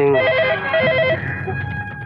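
A telephone rings with a repeating electronic trill, loud and close, in about two short bursts, then fades.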